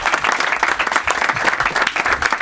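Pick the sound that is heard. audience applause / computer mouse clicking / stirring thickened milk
audience applause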